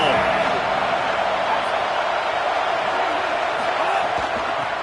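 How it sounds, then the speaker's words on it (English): A sports crowd roars as a steady, loud wash of cheering and whooping, with scattered thumps in the arena. "This crowd ready to make its presence known"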